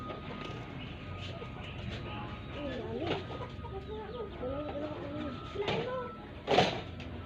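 A flock of farm chickens clucks in short, near bursts, with one louder squawk near the end over a background of outdoor noise and faint voices.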